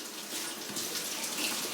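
Water bubbling at a steady boil in a covered pot on a home stove, a continuous soft hiss and churn heard close up with no talking.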